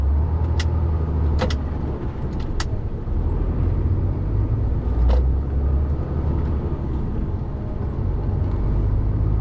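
A Class 1 lorry pulling a trailer through a tight right turn, its engine giving a steady close low rumble throughout with a few brief sharp hisses, like air brakes, standing out above it, and no talk.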